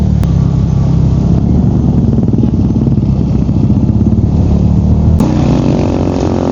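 A Honda Click motorcycle loaded with camping gear climbs a steep road near Majayjay, Laguna, its engine droning steadily and loudly up close with a rumbling, straining tone and a slight shift in pitch near the end.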